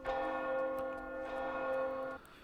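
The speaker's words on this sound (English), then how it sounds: "Forgot that was a thing in this in this version, was the temple bells" Temple bells in the Oblivion Remastered video game ring out, a sustained metallic tone with steady harmonics and a few faint strikes layered in, holding for about two seconds before cutting off.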